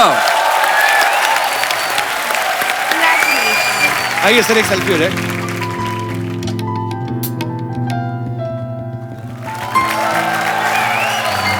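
A studio audience at The Kapil Sharma Show applauds loudly at first, then a voice speaks and music with a tonal melody takes over midway before clapping returns near the end.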